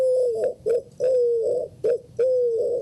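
Recorded calls of a Eurasian collared dove play back as a clear series of soft hoarse coos in short repeated phrases with brief pauses between them, close and fairly loud, with no talking.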